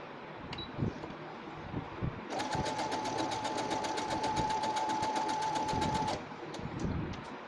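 Sewing machine stitching down a folded hem on a blouse, a rapid, even rattle of needle strokes lasting about four seconds, with quieter handling noises before and after.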